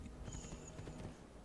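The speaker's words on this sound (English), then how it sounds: "Did not mean to land on the horse" Horse hooves in Assassin's Creed II: a quiet, short run of clip-clop steps under faint background game ambience, lasting just over a second.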